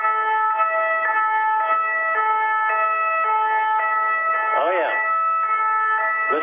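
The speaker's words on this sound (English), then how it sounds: "Is that a French police car?" A French police car siren sounds on a Paris street, a loud two-tone wail alternating steadily throughout, with a brief swooping sweep near the end.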